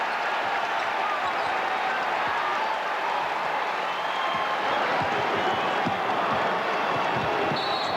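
A basketball arena crowd roars and cheers steadily after a dunk during a Providence versus Rhode Island college game, a dense, sustained wash of noise with faint ball bounces and squeaks underneath.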